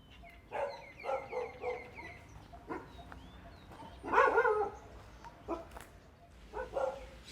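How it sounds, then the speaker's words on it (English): A pack of dogs barks and yips at a Thai temple grounds, with short repeated barks early, a louder overlapping burst in the middle, then a few more scattered barks at moderate distance. "Whole pack of dogs."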